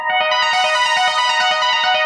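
Bright synthesizer arpeggios from a Punishing Gray Raven track, rapid repeating notes rippling steadily over faint low pulses, a loud and continuous sparkling pattern.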